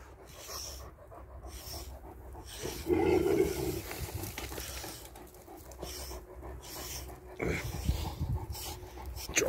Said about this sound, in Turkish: Bu ayda bir defa kesinlikle iyi tarakla köpeklerinizi tarayın.